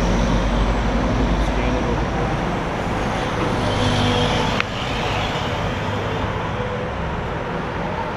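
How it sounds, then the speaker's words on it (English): Steady, loud roar of road traffic on Van Dyke south of 10 Mile, with cars and heavier vehicles passing continuously close by and a voice speaking over it. "of course the traffic's kind of loud"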